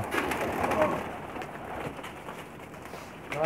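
Pakistani Sharmeela Bareed pigeons coo softly and repeatedly in a loft, close and fairly quiet, with faint rustling and background noise.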